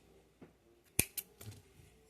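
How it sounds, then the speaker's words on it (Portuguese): Scissors snip through crochet yarn during work on a flower-shaped coin purse, giving one crisp, close cut followed by a couple of smaller metallic clicks and handling sounds in a quiet room. "Aí, vou cortar meu fio."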